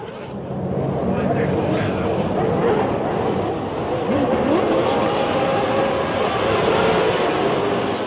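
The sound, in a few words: Formula 1 cars at the race start, 1993 season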